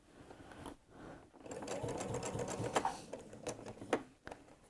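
A sewing machine stitches along a zigzag seam on a fabric basket, its motor whirring in a steady buzzing run with brief pauses, quiet and close, no talk.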